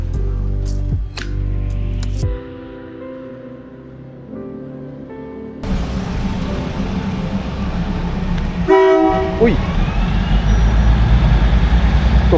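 A train rumbles past with a loud horn blast partway through, the heavy rolling noise building and continuing to the end.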